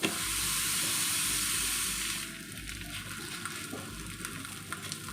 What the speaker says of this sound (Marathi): मध्यम आचेवरती आपल्याला हे तालपीठ छान असं खमंग भाजायचं